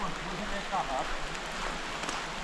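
Steady rain hisses and patters close by, an even, continuous wash of drops with no pauses throughout.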